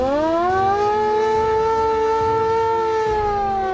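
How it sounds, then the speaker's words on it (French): A German air-raid siren at a reconstructed WWII anti-aircraft battery in Normandy wails loudly and steadily, its pitch rising at the start and then holding a sustained, slightly wavering tone with no talk over it. "Il y a même la sirène qui servait à réveiller les gars en cas d'alerte."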